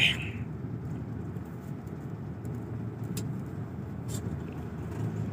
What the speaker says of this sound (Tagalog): traffic tagaytay